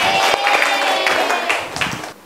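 Students clap for winning groups during a classroom ranking announcement, scattered, uneven handclaps and crowd noise fading toward the end.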